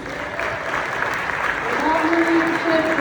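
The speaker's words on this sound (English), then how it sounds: "So, a round of applause for the coaches and the parents." An audience at a high school winter sports awards night claps steadily in a dense wash of applause, with a few voices faintly audible underneath.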